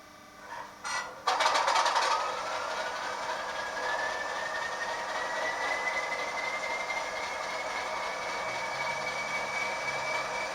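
A few clicks and a short mechanical burst, then the sound unit of a Bachmann model Class 40 diesel locomotive starts up and settles into a steady hum with a slowly rising whine.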